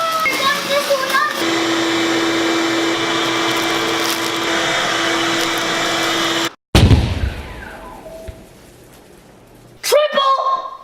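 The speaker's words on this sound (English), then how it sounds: "Engaging plug-in vacuum mode!" A toy vacuum cleaner whirs steadily and loudly for several seconds with a constant tonal hum, then cuts off, followed by quieter clattering and a brief burst of noise.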